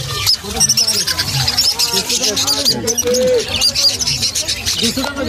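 A busy chorus of many birds, including Java sparrows, chirping and calling over each other at a pet market, loud and close, with crowd murmur and a few deeper animal calls beneath.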